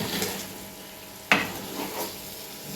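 Brinjal and drumstick curry with masala paste gets a slow, gentle stir in a pan, a soft continuous scraping and sizzling broken once by a sharp clack of the spoon against the pan.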